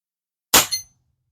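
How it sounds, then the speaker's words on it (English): An air rifle pellet from a custom Diana Airbug strikes a metal cowbell target, giving a single sharp clang with a quick second ring, alone in silence. "we got to hit that cowbell from my buddy Rod over there"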